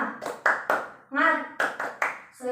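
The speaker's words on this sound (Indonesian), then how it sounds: "kita tepuk semangat dulu" A classroom's rhythmic motivational clapping routine, crisp hand claps in a quick pattern broken by a short sung or chanted word, close and moderately loud.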